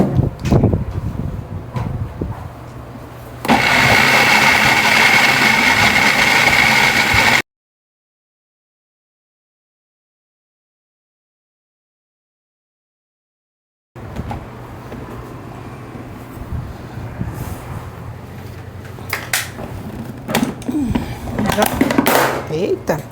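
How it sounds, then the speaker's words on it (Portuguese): An electric mixer beating barbecue sauce for a rib dish: a steady, loud motor whir runs for a few seconds amid kitchen noise, followed by a long silence, then quieter handling sounds as a person talks. "Por isso que eu falei com o mixer"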